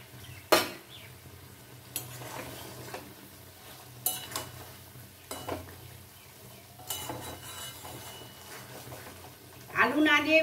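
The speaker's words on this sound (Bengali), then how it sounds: "এবারে আমি ভেজে রাখা আলু পটলটা এর মধ্যে অ্যাড করে দিচ্ছি" Fried potatoes and pointed gourd tipped into a hot pan and stirred on high flame, with sharp spoon-on-pan scrapes and clinks recurring every second or two over a low sizzle, ending in a louder burst of stirring.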